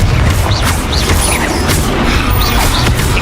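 Confringo blasting spell from Hogwarts Legacy, heard as a dense, loud game mix of crackling bursts and low rumbling impacts, with sharp swooshing accents recurring through the stretch.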